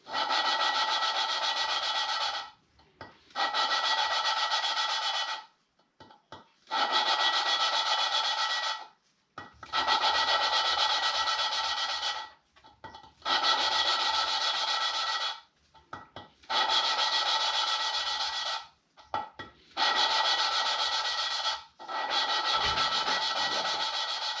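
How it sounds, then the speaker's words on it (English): Engine valves are lapped into big block cylinder heads, making eight long rhythmic bursts of gritty rasping rubbing, each a few seconds long and separated by short pauses, close and steady. "I spent a whole bunch of time lapping in these valves"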